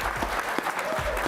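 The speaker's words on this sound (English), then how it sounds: "Please give them your applause." An audience claps steadily at a NASA prize event honoring an aviation challenge team, a dense, fairly close burst of applause with no talking over it.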